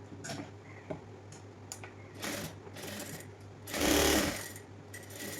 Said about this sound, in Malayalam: അപ്പോൾ നമുക്ക് സ്റ്റിച്ചിങ് തുടങ്ങാം കേട്ടോ